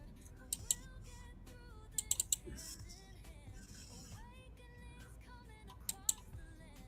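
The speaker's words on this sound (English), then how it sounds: "I'm shuffling the deck." Tarot cards being shuffled by hand, a soft papery riffle and clicking patter running near and steady throughout, with a few sharper snaps standing out.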